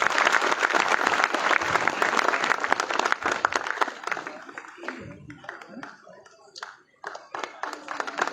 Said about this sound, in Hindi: एक बार ज़ोरदार तालियां होनी चाहिए दोस्तों।